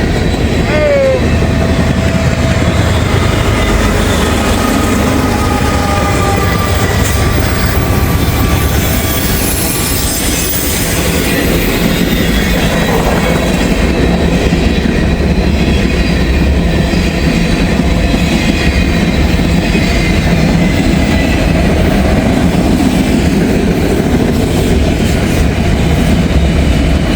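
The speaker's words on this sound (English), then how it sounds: "Man, this is a big train, folks. Another monster right here. Double DPU coming through." A long, heavy freight train with double distributed power units rolls past close by, a loud continuous rumble of wheels and cars with some clatter and squeal throughout.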